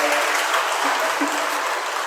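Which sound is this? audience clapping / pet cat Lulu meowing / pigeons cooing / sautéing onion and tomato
audience clapping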